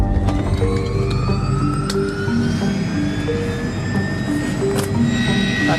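An air ambulance helicopter carrying a patient to hospital, a loud, steady engine and rotor drone with rising whine tones throughout and no break.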